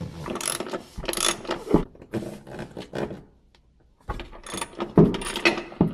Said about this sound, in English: with just a couple turns of a wrench, the hatch support's out